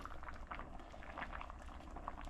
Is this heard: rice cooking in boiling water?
yes